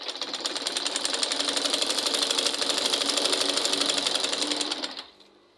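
A sewing machine runs continuously, stitching Ankara fabric with a rapid, even mechanical chatter for about five seconds before stopping abruptly, close and alone without talk.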